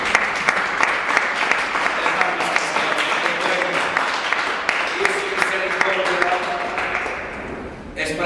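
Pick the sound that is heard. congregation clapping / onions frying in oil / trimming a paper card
congregation clapping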